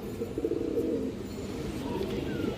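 Pigeons, including a kajla-marked bird with striking eyes, coo in a low continuous murmur throughout, close and steady, with no talk over them.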